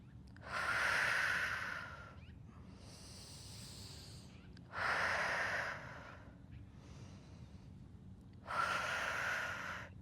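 Slow, deep breaths during a home posture workout, three loud, close inhale-exhale cycles each lasting a couple of seconds with quiet pauses between them.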